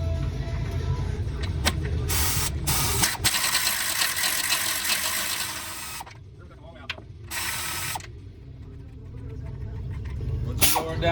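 Ratchet wrench clicking in rapid bursts while loosening sway bar bolts on a 2013 Nissan Rogue AWD, close and loud with short pauses between runs.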